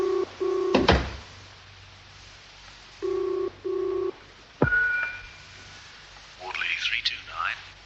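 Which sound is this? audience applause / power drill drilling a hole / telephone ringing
telephone ringing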